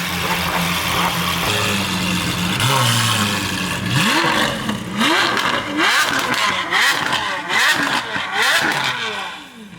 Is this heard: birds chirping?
no